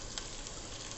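Tadka tempering sizzles in a pan while ghiya chana dal is being cooked, producing a faint, continuous frying hiss with no talking.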